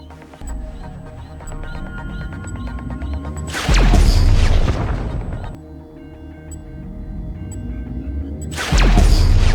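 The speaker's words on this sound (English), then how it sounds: "Get to the satellite gun and blast Clifford back to stupidity!" Orbital cannon blasts in Grand Theft Auto Online: two loud, close, roaring explosive bursts, each lasting over a second, rising out of a steady electronic game soundscape with beeps and hum.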